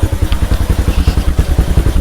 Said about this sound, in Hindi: अब बाइक आप साउंड सुन लो, बिल्कुल मतलब स्वीट सा साउंड हो गया